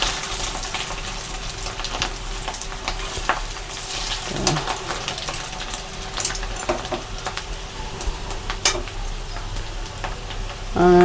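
Fish roe fritters fry in hot oil in a pan, hissing and crackling steadily up close while a utensil scrapes and taps as they are flipped, with a brief clatter at the end.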